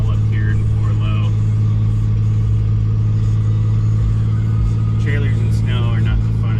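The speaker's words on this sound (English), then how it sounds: "Just trying to get my trailer going. My truck was slipping in the rear there." A pickup truck towing a trailer on snow and ice rumbles and revs steadily as its rear wheels slip, loud and close, with faint voices briefly audible over the engine.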